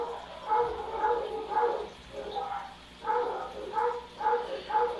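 Several dogs bark in irregular bursts, some yips mixed in, at a moderate distance outdoors with no speech over them.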